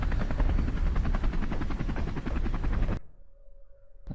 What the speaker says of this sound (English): And here's the chopper.